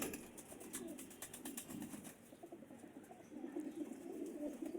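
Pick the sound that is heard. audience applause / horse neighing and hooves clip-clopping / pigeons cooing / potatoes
pigeons cooing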